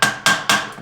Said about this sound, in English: Just going to use the butt end of a wooden hammer.